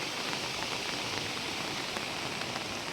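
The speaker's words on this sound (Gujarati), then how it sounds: "રાતના 9 થી દિવસના 9 સુધીમાં એક ધારો વરસાદ" Steady all-night winter rain pours down in a dense, even hiss with scattered drops pattering on surfaces, with no voices.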